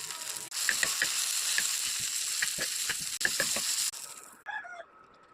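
Dried chilies and tomato go into hot oil for a dal tempering, giving a loud sizzle with sharp crackles and pops that cuts out and restarts in bursts before fading to faint spatter near the end.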